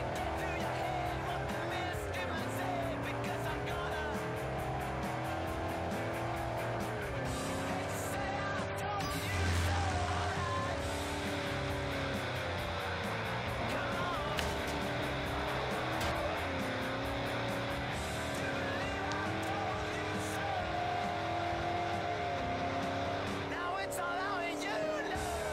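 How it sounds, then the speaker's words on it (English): A car drifting in Forza Horizon, with a continuous engine roar whose pitch sweeps up and down as revs change, long tire squeal running throughout, and a player talking excitedly over it. "Holy crap, this car drifts."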